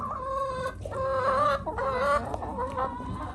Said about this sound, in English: Look at my cute little chickens.